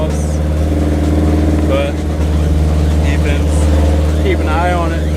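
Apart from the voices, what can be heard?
turbo Mazda Miata engine revving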